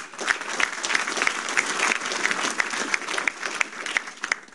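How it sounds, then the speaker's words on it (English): An audience at a business talk breaks into loud, sustained applause, a dense continuous clatter of many hands. "Give yourselves a round of applause."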